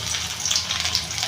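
Ginger and garlic paste frying in a hot gravy base with whole garam masala for vegetarian chilli paneer, a steady close sizzle and crackle with no voices.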